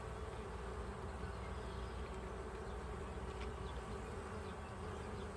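Honey bees swarm and buzz around an open hive while its frames are being worked, a dense, steady hum that stays close and constant with no talking.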